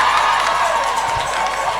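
A church congregation cheers and acclaims Jesus with a steady, loud wash of crowd voices that holds evenly throughout without a break.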